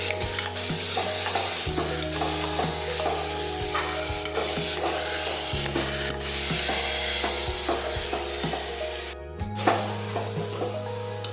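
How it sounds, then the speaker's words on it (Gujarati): Cumin seeds sizzle and fry steadily in hot oil in a pan, a dense continuous crackle close up, with a utensil stirring and scraping throughout and no talk. "જીરું નાખીશું હવે આપણે સાકળી દઈશું"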